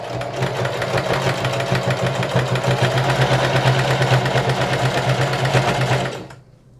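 A sewing machine stitches denim patchwork pieces for a bucket hat, a loud, close, steady rapid whirring chatter that runs continuously for about six seconds and then stops.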